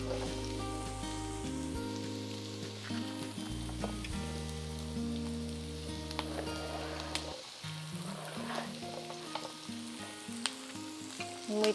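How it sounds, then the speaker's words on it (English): Onion, celery, mushrooms and carrots fry in hot oil in a pan for a diabetes-friendly pasta sauce, a steady sizzle running beneath prominent background music throughout. "we need to add our onion, celery, mushrooms, and then carrots. So you can just throw everything into your pan."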